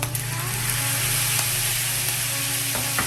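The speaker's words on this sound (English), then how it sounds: "Now I'm gonna go ahead and add 4 tablespoons of soy sauce" Soy sauce hitting a hot pan of chicken fried rice gives a steady, loud, close sizzle that hisses on without a break, with faint scraping from the pan and no voices.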